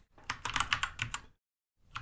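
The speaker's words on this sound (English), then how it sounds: "So say I start typing something." Quick clattering keystrokes on a computer keyboard, close and fairly loud, in a steady burst for about a second, then a short silence before more typing resumes.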